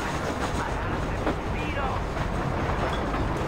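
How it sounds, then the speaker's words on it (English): Train engine in the video game Red Dead Redemption 2, a dense continuous rumble with faint rail clatter, steady and fairly loud throughout. "The train engine."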